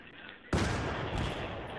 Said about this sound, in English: Je mortar